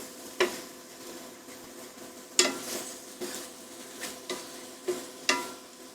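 Chicken being deglazed in a pan for bourbon chicken, with a soft steady sizzle broken by several sharp scraping stir strokes and clinks spread through the clip, no voices.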